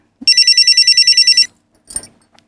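A telephone in a police station in a crime TV drama rings loudly in one rapid trilling burst, followed by a brief click and handling noise.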